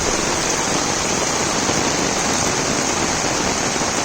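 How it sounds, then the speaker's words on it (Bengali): Heavy rain pours down in Pabna, Bangladesh, in a dense, constant roar of drops on surfaces, loud and unbroken, with no voices; the area is flooding. "এত জোরে বৃষ্টি হচ্ছে"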